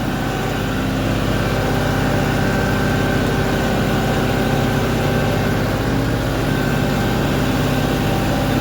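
A tractor engine throttled up, a loud continuous close drone with a steady heavy rumble throughout and no talking.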